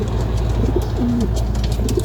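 Young pigeons in a loft cooing steadily, a soft rolling coo close by over a continuous low murmur of other birds, with no talking.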